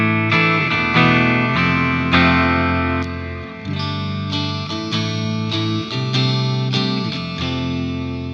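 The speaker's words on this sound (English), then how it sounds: "Moving on, we have the Vox AC30." A distorted electric guitar plays chords and riffs through a simulated Vox AC30 amp on its treble boost setting, bright and chimey with effects and light reverb, loud and continuous, no talking.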